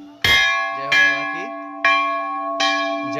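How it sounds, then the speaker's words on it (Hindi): A large temple bell at a busy Hindu shrine is struck four times at a steady pace, each loud, close metallic clang ringing on with a long sustained hum under the next strike. "ये है सबसे बड़ा घंटा"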